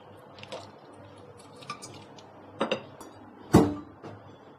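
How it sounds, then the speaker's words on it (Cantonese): Cracked tea eggs, steeped with Sichuan peppercorn, star anise, bay leaf, rock sugar, cinnamon and black tea, are set back into a pot with a few sparse, soft knocks and one louder clunk in a quiet room. "將啲雞蛋重新放返落個煲度"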